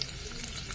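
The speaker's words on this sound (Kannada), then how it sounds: "ಇವೆಲ್ಲ ಎಣ್ಣೆಗೆ ಬಾಡಿಸ್ಬೇಕ್ರಿ." Cumin, mustard seeds, garlic and curry leaves fry in hot oil for dal khichdi, giving a steady, close sizzle with no pauses and no voices.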